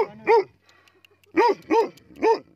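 A dog barks four times, a single bark then a quick run of three, loud and close, with brief quiet gaps between.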